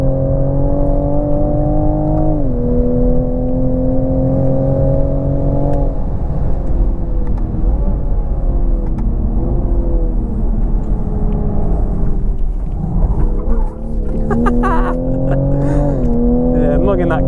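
The engine of a 2020 Toyota Supra drones loudly and steadily on a race track, its pitch climbing, then dropping sharply at gear changes, with a voice talking over it.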